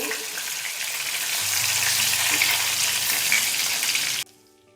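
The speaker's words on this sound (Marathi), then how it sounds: "ही वांगी छान तेलामध्ये फ्राय करून घ्यायची" Stuffed brinjals, coated in a ground masala with turmeric, fry in hot oil with a loud, dense, steady sizzle that cuts off abruptly at the end.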